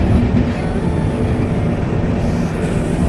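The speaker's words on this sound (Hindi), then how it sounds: "गोमती नगर रेलवे स्टेशन से ये बेहद ही प्यारा खूबसूरत डिपार्चर" Passenger train 15078 pulls out of Gomti Nagar railway station in a loud, steady rumble of wheels and carriages with a faint clickety-clack and no talk.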